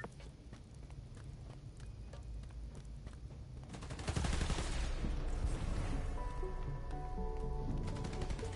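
Gunfire in the Spider-Man PS5 video game, starting as rapid light clatter under a low rumble, then a loud dense burst of fire that keeps going to the end.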